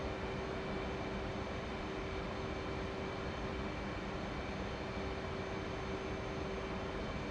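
An F-18 Hornet jet flying a loop in the DCS flight simulator game, a steady, even engine roar with a constant tonal whine, faint and unbroken throughout.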